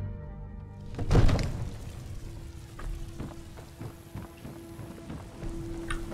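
Horse hooves clip-clopping in the video game Skyrim, a series of soft thuds after a heavier thump at the start, with a steady low hum and faint game ambience underneath.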